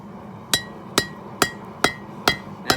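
A hammer strikes hot steel six times at a steady, even pace while forging a knife blade, each blow a sharp ringing clank with a short decay over a quiet forge background.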